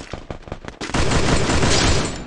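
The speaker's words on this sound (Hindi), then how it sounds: "गोली चला रहा है कोई" Gunfire in a video game: several separate sharp shots ring out first, then merge into a sustained, loud burst of rapid automatic fire.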